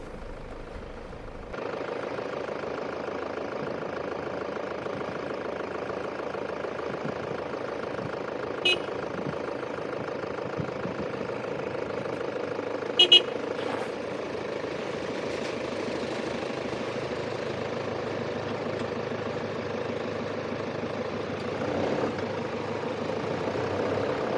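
A car reverses on a narrow mountain road in the Greater Caucasus, its engine holding a steady low drone throughout, close and constant, with a few brief clicks and knocks; no one speaks.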